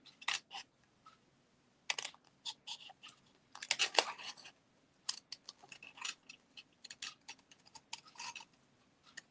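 Scissors snipping stamped paper toadstools, a close series of irregular crisp clicks and paper rustles in short bursts with small pauses between cuts, fairly quiet and without talking.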